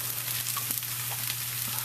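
Rice fries in oil with tomato paste in a dry pan, a brief steady crackling sizzle up close over a low constant hum.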